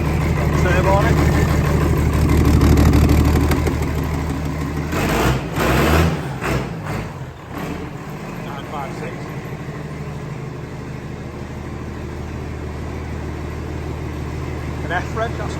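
Turbocharged tractor engines, one sounding like a 1455, running with a steady low rumble that swells early on, then eases into a quieter idle, with talk over the engine noise.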